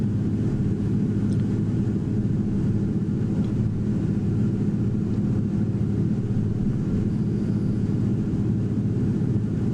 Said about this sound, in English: Beaver 25 Delta Echo is currently about 3 miles out to the west, going to be landing to the south